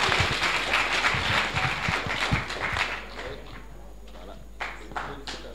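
Audience applause at an engineering graduation ceremony, with scattered claps fading out while a voice speaks over them and a steady low hum runs underneath.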